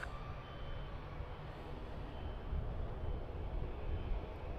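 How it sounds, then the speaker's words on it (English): Aircraft at Vancouver airport, with a Cessna Cargo Master arriving as a 747 departs: a faint, distant, steady jet rumble and roar that builds slightly over a few seconds, without voices. "Cessna Cargo Master arriving when a 747 departs."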